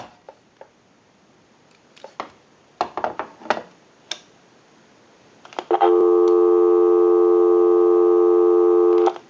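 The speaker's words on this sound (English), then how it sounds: "Go ahead and give you some dial tone." Several clicks and clunks of an Automatic Electric rotary dial wall telephone handset being handled, then a steady, loud dial tone hums continuously for a few seconds.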